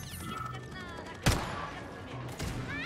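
A single sharp gunshot in the video game Atomic Heart cracks out mid-clip over a steady background hum, with a softer burst of noise near the end.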